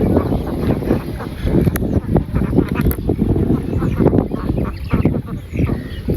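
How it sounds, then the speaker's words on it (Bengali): Ducks being let out in the morning on a rural Bangladeshi homestead quack and honk in a loud, busy flock close by, calls overlapping continuously with a few sharper cries. "সকালবেলা হাঁসগুলো ছেড়ে দিচ্ছে"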